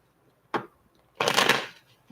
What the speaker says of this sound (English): why are these cards getting more difficult to shuffle